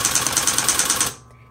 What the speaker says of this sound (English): on electric typewriters, there are 3 keys that have an auto repeat, and that's your dash